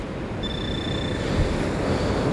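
Ocean surf on a beach, a steady broadband wash of waves with wind buffeting the microphone, and a faint high electronic tone, likely a pinpointer, beeping briefly.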